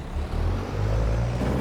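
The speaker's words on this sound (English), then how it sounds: "But this truck does sound really, really, really good" A modded truck with aggressive jake brakes in Farming Simulator 22, giving a loud, deep, steady engine rumble that swells slightly as it runs, with no voices over it.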